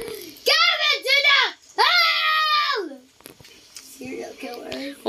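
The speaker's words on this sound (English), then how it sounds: "Screaming so loud." Children screaming loudly while playing the Roblox game Frogge, several high shrill voices in long sustained bursts, then quieter chatter and game noise.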